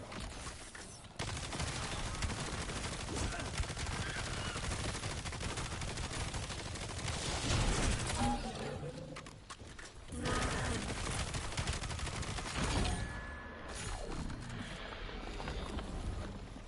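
Video game gunfire, dense volleys of rapid shots in loud sustained stretches broken by brief lulls, with a voice faintly present underneath.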